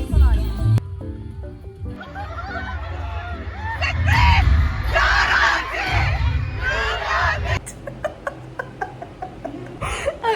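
A big K-pop concert crowd in Turkey screams and yells loudly and continuously, a dense wall of high-pitched shrieks and cheering, close and overwhelming, with clapping near the end.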